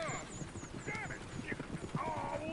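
Horse hooves clip-clopping in Red Dead Redemption II, a quick uneven patter of hoofbeats with a whinny and voices talking over it.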